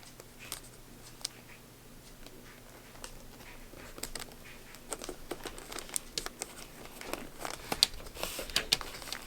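Wrapping paper crinkles and crumples as it is folded and taped around a Christmas gift, with close, irregular rustles and small crisp ticks that grow busier toward the end, heard on its own without talk.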